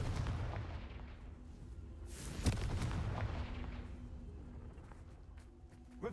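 The Confringo fire spell in the video game Hogwarts Legacy goes off as a sharp blast with a rumbling boom that fades over a few seconds, set against a steady low background of game ambience.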